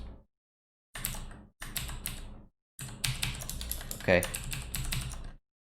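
Someone types on a computer keyboard in quick bursts of crisp, close clicks separated by short silences, with a brief spoken word among the keystrokes.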